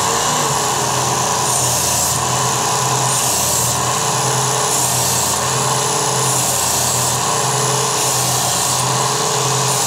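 A Work Sharp Ken Onion knife sharpener grinds a blade on its fine belt: a loud, steady motorized whir with a harsh metallic rasp throughout, the pitch pulsing slightly at regular intervals, with no talk.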